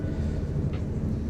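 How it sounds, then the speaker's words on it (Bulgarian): A train passes at a railway station, heard as a steady, close, loud rumble with a dense low roar that holds evenly throughout the short stretch. "И това е влака, нали?"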